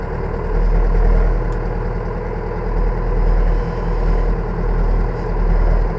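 A tractor engine idles with a steady low rumble, close by and constant throughout, with no voices.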